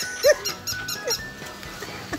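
A dog playing with a plush toy dog, giving a few short snorts, whines and huffs close by over a busy background.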